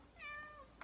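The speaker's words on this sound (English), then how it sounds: "And Cadence, oh, I just stepped on the cat" A house cat lets out a single loud, drawn-out meow after being stepped on in a kitchen, close by, followed by a brief soft bump.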